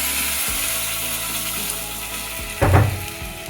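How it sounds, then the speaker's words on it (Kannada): Ground onion, ginger and garlic paste hitting hot oil for an avarekalu sambar, producing a continuous loud sizzle with a brief stirring scrape near the end, no voices. "ಈಗ ಇದೇನು ರುಬ್ಕೊಂಡಿದ್ದೀನಿ ಅದನ್ನು ಹಾಕ್ತಾಯಿದ್ದೀನಿ"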